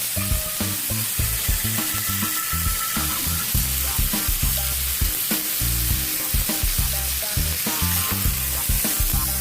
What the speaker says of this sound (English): I'm not trying to cook it, I'm just trying to sear it.